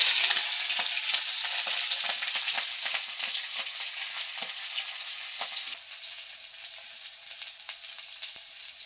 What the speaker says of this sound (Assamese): এতিয়া আমি ইয়াক অলপ মিক্স আপ কৰি লওঁ, যাতে ই অলপ গোল্ডেন হৈ যায় পিঁয়াজটো